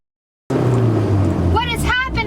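A broken-down van's engine runs in a steady low drone, with a rising whine near the end. It plays under close, continuous talk, on a remote road between Arches National Park and Richfield.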